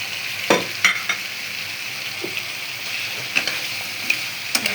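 Lentil dumplings (bori) fry in a pan under a steady sizzle, with several sharp scrapes and clicks of stirring spread across it; no voices.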